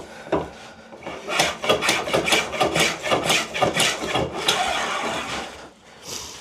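A plough plane cuts shavings from a wooden board in rapid repeated strokes, each pass giving a rasping, scraping swish, close and loud, in a steady rhythm with a brief pause near the end.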